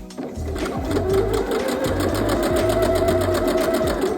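Close sewing machine stitching denim dress fabric without backstitching, running in steady rapid bursts with brief pauses, loud and mechanical throughout, no voices.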